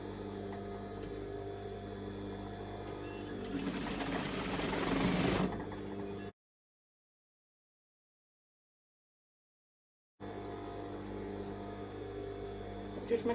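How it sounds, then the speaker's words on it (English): Sewing machine top stitching around a seam joining two pieces of fabric, running as a steady mechanical hum that swells louder for a burst, then a stretch of silence before the motor hum resumes. "I'm going to top stitch around where I've just joined those two pieces of fabric together."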